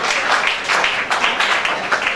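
An audience at an asthma and respiratory disease awareness workshop claps together in a steady, dense patter that lasts about two seconds, fairly loud and close, with no talking over it.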